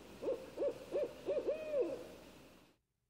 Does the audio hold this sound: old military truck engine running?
no